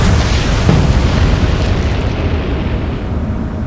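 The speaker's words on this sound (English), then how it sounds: "That's another torpedo hit." A torpedo strikes a ship in the naval game Atlantic Fleet, a loud broad explosion rumbling from the start and slowly fading into a long low roar.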